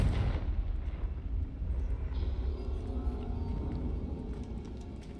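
A Confringo blasting curse cast in Hogwarts Legacy, heard as a loud, continuous explosive rumble with heavy low-end boom that holds steady for several seconds before easing slightly.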